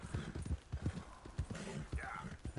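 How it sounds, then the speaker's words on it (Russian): A horse gallops in Red Dead Redemption 2, hooves pounding in a fast, rhythmic clip-clop close by, with a short whinny near the end and someone talking over it. "Тупая лошадь, просто"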